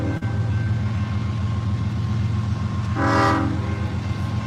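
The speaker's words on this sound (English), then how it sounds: "start the video right when the train comes here" A train rolls past with a constant heavy rumble, and partway through its horn sounds in one loud, short blast, close and with no voices.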